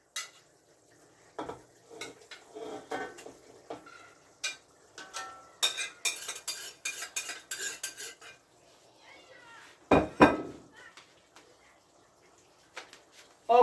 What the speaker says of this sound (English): I'm going to put in back the pork because the gravy is ready